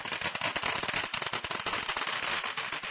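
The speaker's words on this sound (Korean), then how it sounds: "절 한쪽에서 신도가 폭죽을 터뜨리고 있었다." A worshipper sets off firecrackers at a Buddhist temple in China, a dense, crackling barrage of rapid sharp pops that runs without a break, loud and close, filling the whole stretch.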